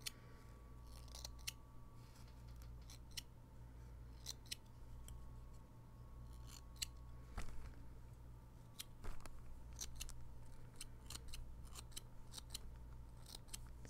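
Small snip shears trimming fuzzy needle-felted wool on a Christmas tree ornament, a series of quick, crisp snips in irregular bursts over a low steady hum, close and fairly quiet.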